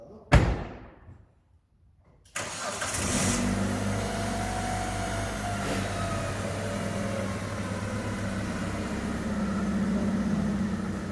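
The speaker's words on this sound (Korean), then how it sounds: "제가 안에 들어가서 문을 들어가서 시동 한번 걸어보겠습니다." A car engine is started in a chassis maintenance training shop while parked on level ground: a door thump and brief quiet, then the starter catches and the engine settles into a steady, close idle hum that continues to the end.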